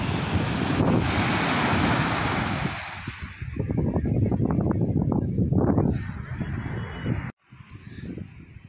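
Strong wind buffets the microphone as sea surf rolls and washes nearby on a beach at Visakhapatnam, India, a steady roar with rhythmic surges, cutting out briefly near the end.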